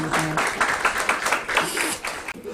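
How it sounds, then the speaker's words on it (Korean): Applause from a church congregation during a Korean Presbyterian installation service, many hands clapping in a dense, slightly uneven patter for a couple of seconds, with a voice briefly heard under it. "박수 크게 칩시다"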